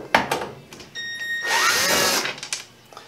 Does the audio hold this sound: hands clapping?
no